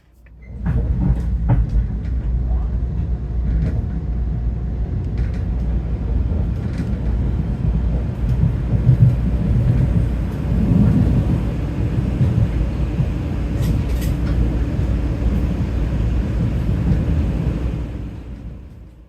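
A Long Island Rail Road train runs westward toward Penn Station, a steady low rumble and rolling rattle of wheels on track heard from inside, with occasional clanks and squeaks over the drone.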